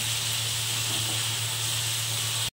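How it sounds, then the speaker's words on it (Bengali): Tomatoes frying in a pan for Bengali chhanar bora: a loud, continuous broadband hiss and sizzle with a low hum beneath it, steady until it cuts off abruptly at the end, with no voices. "টমেটোগুলো এর মধ্যে দিয়ে দেব। দিয়ে ভালো করে ভেজে নেব।"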